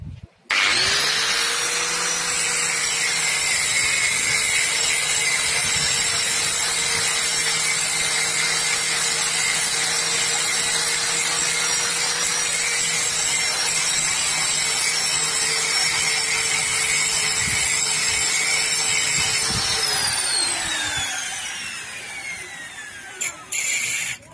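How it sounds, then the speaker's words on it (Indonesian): An angle grinder cuts into the water pump of a Mercedes-Benz diesel truck engine, a loud, close, sustained metallic whine with a grinding rasp for about twenty seconds before winding down. "Kita akan coba menggerinda ini sahabat agar kita dapat mudah membuka sahabat."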